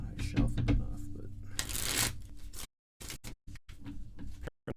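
A deck of Magic: The Gathering cards being shuffled during a casual commander game, with a long riffling burst followed by several short, sharp bursts of cards snapping together, fairly close.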